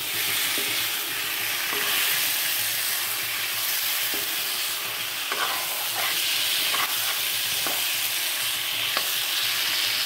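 Chicken cooking in a pan, a continuous close sizzle and fry with repeated stirring scrapes and clinks throughout, no talking.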